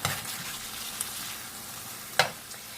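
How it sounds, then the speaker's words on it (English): Chicken breasts searing in a skillet, a quiet even sizzle running throughout with a sharp utensil click near the end; no voices. "We want to get a good sear on these."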